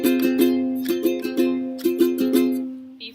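Ukulele picking the closing riff of the Beatles' Norwegian Wood, a clear close-up run of plucked notes over a ringing drone string, played alone.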